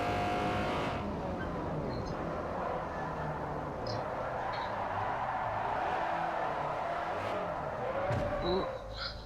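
A drifting car in Forza Motorsport 4 on the Fujimi Kaido course holds a steady engine drone with shifting pitch, rising and falling through the slide, with a brief surge near the end.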